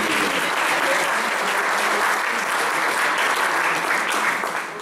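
A large church congregation applauds loudly and continuously, a thick, even wash of clapping that holds steady and then begins to fade at the end.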